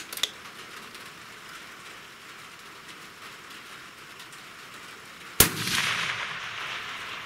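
A single loud, sharp crack from a Sig Cross hunting rifle chambered in 6.5 Creedmoor, fired outdoors. It rings out over quiet ambient noise and trails off in a rolling echo.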